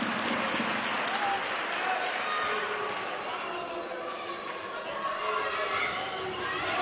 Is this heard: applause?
yes